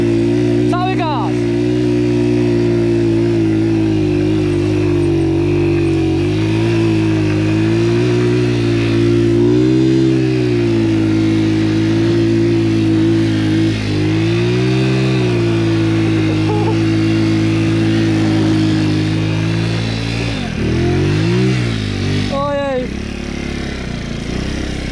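A small scooter engine drones loudly and steadily at high throttle while climbing a rough off-road enduro hill, its pitch wavering with load and dipping near the end; a voice talks over it.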